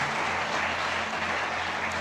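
Church congregation clapping in praise of the Lord, an even continuous patter of many hands over a low steady hum, moderately distant and unbroken.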